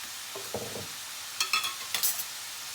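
A spoon stirs roasted ground cumin into food in a pan, making several short scraping knocks and clinks over a low, steady sizzle, close and alone without voices.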